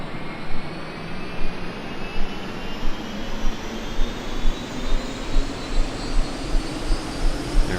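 Bell UH-1 Huey helicopter turbine spooling up during start, a rising jet whine climbing steadily in pitch over a broad roar, with rhythmic rotor thumps growing regular as the blades come up to speed.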